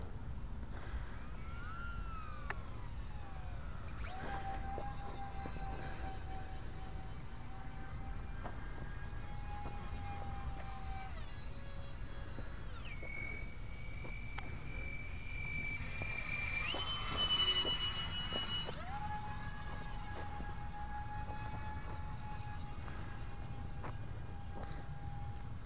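An E-flite UMX A-10 Thunderbolt II model jet with twin 30mm electric ducted fans whines overhead at half throttle, a thin high-pitched tone rising and falling as it passes, heard at a distance over steady outdoor noise.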